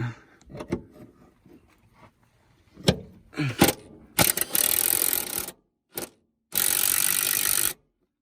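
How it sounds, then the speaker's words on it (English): Impact wrench tightening rear differential bolts on a 2000 Honda CR-V, with several short bursts and two longer sustained rattling runs, separated by clanks of metal parts and tools. "We're gonna keep tightening everything up with the impact"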